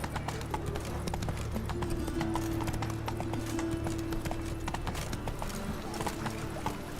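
A horse trots in The Witcher 3, its hooves clip-clopping in a quick, steady rhythm that continues throughout under ambient game sound and a low sustained tone.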